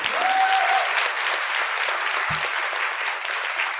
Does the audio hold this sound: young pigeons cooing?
no